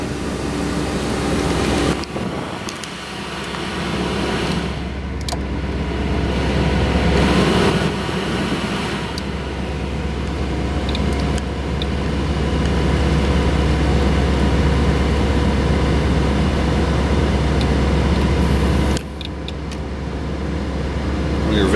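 A 1964 Ford Thunderbird's heater blower motor runs with a steady, loud whooshing rush of air and a low hum, continuous throughout with brief dips and small clicks, and someone talks briefly over it.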